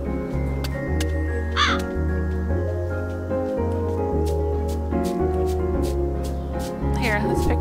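A raven in the video game Calico caws several times in short bursts over a steady background music bed, with a person talking throughout.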